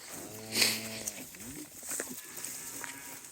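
Cows and calves being moved along a farm laneway give several close, drawn-out moos with harmonic tones, mixed with scuffling, a sharp knock and other short noises in between.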